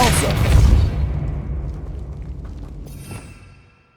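A Depulso force spell cast in Hogwarts Legacy, a deep booming blast that swells and then fades away over a few seconds.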